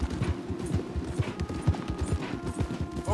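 Horse hooves clip-clop in the Red Dead Redemption 2 video game, a rapid, steady run of close, moderately loud hoof strikes in an even gallop-like rhythm that continues through the whole moment.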